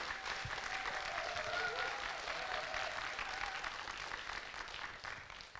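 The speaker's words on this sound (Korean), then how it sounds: "안도현 시인께 다시 한번 감사의 뜨거운 박수" Audience applause for poet Ahn Do-hyun after his lecture on where the poetic is found, a dense, sustained clapping from a hall crowd that holds steady and then fades slightly.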